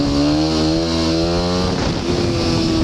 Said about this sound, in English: it's all about feathering the throttle on and off and just keeping it where you want